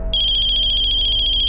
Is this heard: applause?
no